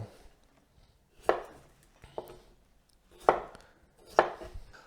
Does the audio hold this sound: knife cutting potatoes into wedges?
yes